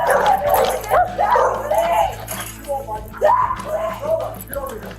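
A dog barks and yips repeatedly at police officers during a tense encounter, the sharp, close barks coming in quick bursts while voices talk over them.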